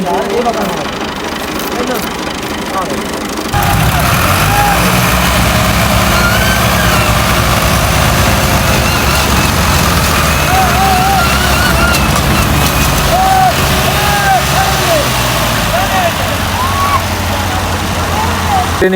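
Car engines running and idling at a crowded fair ride, a steady low rumble that swells after a few seconds and holds, with people talking and shouting over it throughout.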